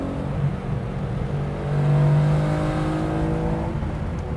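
A 1971 Porsche 911T engine hums steadily while driving, a smooth mid-level drone that swells briefly as the revs climb, then settles again, heard from inside the car with no talking.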